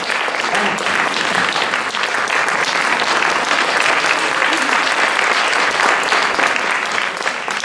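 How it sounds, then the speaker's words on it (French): Dense, steady applause fills a large hall as an audience at a palliative care congress claps continuously from start to finish, loud and close with no pauses. "je prie que vous l'applaudissiez, parce que c'est un véritable engagement"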